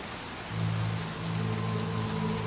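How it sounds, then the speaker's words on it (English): Steady rain hisses throughout in the video game Little Nightmares 2, a continuous wash of falling water with a low droning tone layered underneath, and no voices are heard. "We gotta get out of the rain, man. You're gonna get sick."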